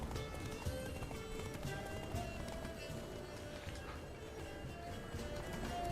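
Geralt's horse Roach gallops in The Witcher 3, a steady run of hoof clip-clops at close range with a snort or whinny, laid over a continuous game soundtrack.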